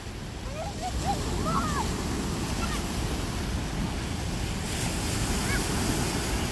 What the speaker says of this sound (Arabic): والله لا غير جالسه على البحر، واخا راه مضبب